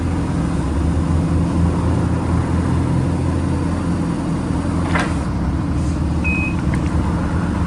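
A Hyundai 30L-9A pneumatic-tire forklift with a Hyundai L4KB LP gas engine runs in a steady, close, loud drone, with a few faint higher mechanical squeaks and a short beep near the end.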